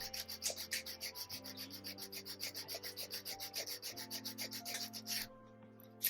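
A nail file rasps back and forth against the edge of an earring in quick, even strokes, close and fairly quiet, with a steady rhythmic scratching.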